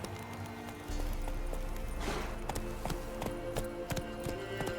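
Roach, the horse in The Witcher 3, gallops in a rapid rhythmic clip-clop of hooves, close and steady, with faint game ambience behind.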